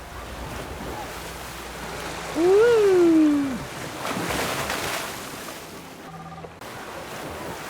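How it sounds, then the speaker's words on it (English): Wave pool and water park in a theme park video game, with a steady wash of splashing water and surf, a loud rising whoop cutting in midway, and a brief quiet gap near the end. "We have a whole wave pool and water park back there."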